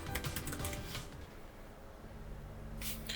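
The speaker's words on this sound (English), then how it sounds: "Alright, keyboard test." Quiet, rapid typing on a Framework 12 laptop keyboard during a typing test, with dense bursts of key clicks early and again near the end, no speech.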